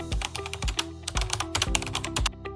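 Rapid clattering keystrokes on a computer keyboard, close and steady, with a run of quick taps and a few heavier key thumps over a couple of seconds, alone with no voices.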